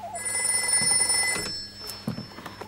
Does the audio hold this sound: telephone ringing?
yes